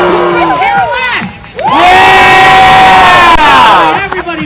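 A crowd at a log rolling contest at the Alaska State Fair breaks into loud, sustained cheering and whooping after a shouted announcer's prompt, the roar filling several seconds before tapering off.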